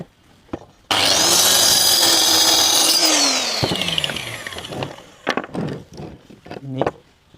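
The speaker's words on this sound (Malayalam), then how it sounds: "മട്ടം വരച്ച് ലെവൽ കട്ട് ചെയ്യാം" A power tool cuts through wood for a double-sided joint, a loud harsh buzz lasting a few seconds before it winds down, followed by scattered knocks and handling noises.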